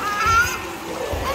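Water splashing and sloshing as someone swims in a summer lake in Carinthia, Austria, with soft irregular splashes close by and a voice heard over them.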